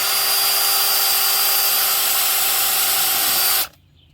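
A power drill bores into a foam-filled tire, whining steadily and loudly up close for a few seconds before cutting off abruptly into near silence.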